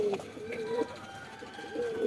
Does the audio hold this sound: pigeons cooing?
yes